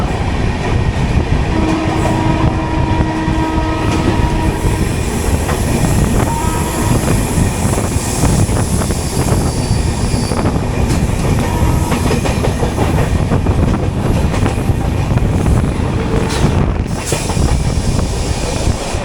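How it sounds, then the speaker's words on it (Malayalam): The Lalbagh Express to Bangalore rushes past at close range, a loud, continuous roar of wheels with rhythmic clickety-clack and faint squeal, sustained without a break. "ബാംഗ്ലൂരിലേക്കുള്ള ലാൽബാഗ് എക്സ്പ്രസ് ആണ്."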